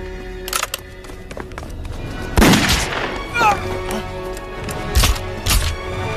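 Gunfire erupts in a Chinese war film set during the anti-Japanese resistance, several sharp, loud shots spaced a second or two apart against a quiet background, with a voice heard briefly.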